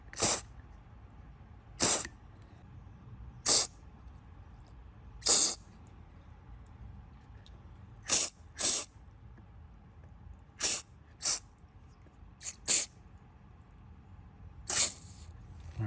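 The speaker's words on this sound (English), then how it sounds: "And if you choose, you can use some carb spray." Short, sharp bursts of carburetor cleaner spray hiss one after another with pauses between, about a dozen quick squirts close by, aimed into a Husqvarna trimmer carburetor.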